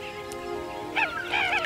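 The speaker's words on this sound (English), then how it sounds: "With a coded chirp, he calls his chicks to him." A father bird gives short honking chirps to call his chicks toward him, two brief calls close together near the end over a soft hum of background noise.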